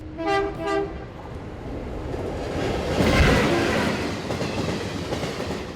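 A train at Patna railway station sounds two short horn blasts, then rolls past with a loud, swelling rumble and rattle of wagons that fades slightly toward the end.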